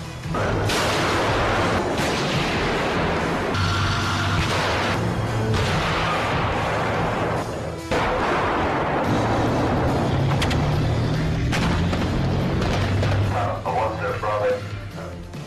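British Challenger 2 tanks on a training ground with Ukrainian soldiers: loud, close engine roar and heavy mechanical rumble with sharp bangs and rattles throughout, and a voice talking over much of it.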